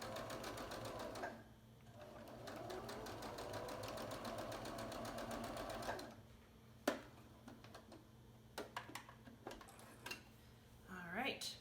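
A domestic sewing machine stitches a quarter-inch seam on a scrap quilt block, running in a steady fast rhythmic whir for several seconds, then stopping, followed by brief clicks and handling noises and a short burst near the end.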